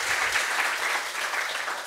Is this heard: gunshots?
no